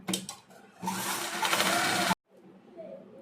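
A sewing machine stitches the side seam of a blouse, a brief buzzing run of about a second that cuts off abruptly, followed by quieter handling sounds and a faint voice.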